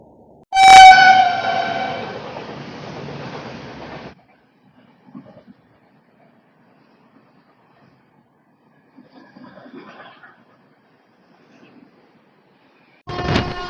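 A passenger train on the Vizag to Araku line, running at speed, sounds a loud, long horn blast with steady rumble for about four seconds, then near quiet with faint noises, and another loud horn burst starts at the very end.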